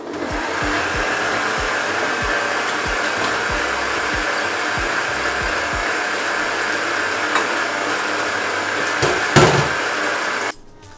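An electric mixer beating pistachio and white chocolate cake batter again, a steady loud whirring drone running for about ten seconds with a few rattling bumps before it switches off.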